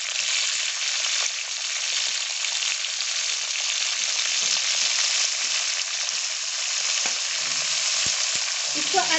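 Chopped capsicum fries in hot oil with a loud, steady, close sizzle. Faint stirring scrapes run through it and grow clearer near the end.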